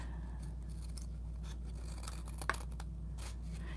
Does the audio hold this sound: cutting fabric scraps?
yes